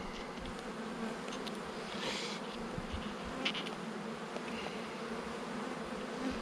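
Bees drone in a dense, steady buzz during the inspection of an open beehive, a continuous close swarm sound with no voices.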